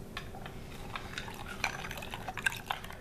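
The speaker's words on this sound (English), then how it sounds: "so I'm gonna add a little bit more water." Water poured into a pot of sweet potatoes for a Southern sweet potato and bacon dish, faint splashing and dripping trickles with light clinks, no talk.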